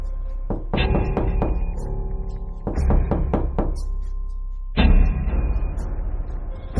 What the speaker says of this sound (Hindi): इसके बाद बुल्ली पीटर के घर का दरवाजा खटखटाता है।